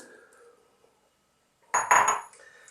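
Potatoes tumble into a pot of Italian chicken soup, a sudden burst of clattering knocks and clinks near the end after a quiet lead-in, close and moderately loud.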